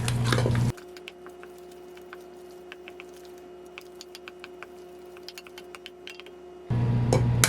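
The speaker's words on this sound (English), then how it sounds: "just keep stirring it and it will come together" Soft, irregular squishy taps and patters of a spoon working choux pastry dough made with fresh milled flour, close but quiet over a faint steady hum, framed by louder machine noise at start and end.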